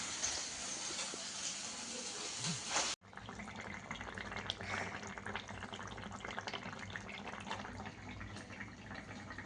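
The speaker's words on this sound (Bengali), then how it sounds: "এখন আমার তরকারিটা ফুটছে" A pot of Bengali curry with hilsa fish, potato, pointed gourd and yardlong beans bubbling on the stove, a soft, continuous watery simmer with a brief clunk partway through and no talk.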